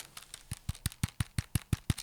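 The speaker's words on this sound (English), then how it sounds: "They rattle. I mean, they've got ball bearings in them" Ball bearings in a rotating phone case click and rattle in quick, fairly regular bursts, close and quiet, about a dozen taps in two seconds.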